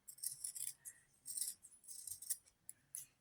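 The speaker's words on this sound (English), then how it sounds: "take your scissors and cut this off" Scissors snip through fabric while sewing a bowl cozy, a few quick close crisp cuts in short bursts with small pauses between them.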